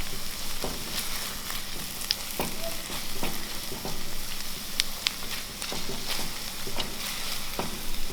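Mixed vegetables, including broccoli, sizzle in a pan with a dense continuous crackle, punctuated by irregular spatula taps and scrapes close by, with no one talking.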